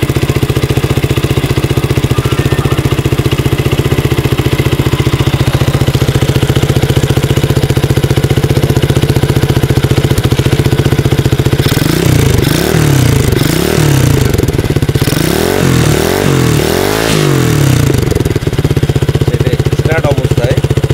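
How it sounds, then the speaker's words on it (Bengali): A modified WUYANG 125cc motorcycle idles with a steady, loud exhaust drone throughout, with sharp revving bursts around the middle and latter part; voices speak over the engine. "এক্সস্টের সাউন্ডটা শুনলেন আপনারা।"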